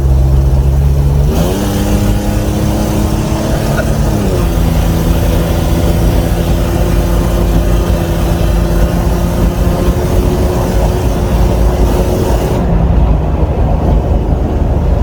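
A 1992 Toyota 4Runner engine fitted with headers rumbles steadily with a deep, loud exhaust note, rising briefly in pitch as it accelerates, then holding a throaty drone while driving.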